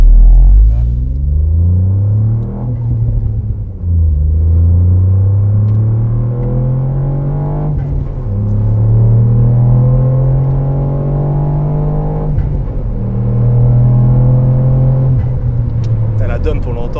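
A car engine with its sound accentuated by the air intake rumbles loudly from inside the vehicle, revving up through gears with rising pitch and dropping at each shift, while people talk over it.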